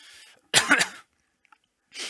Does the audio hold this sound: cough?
yes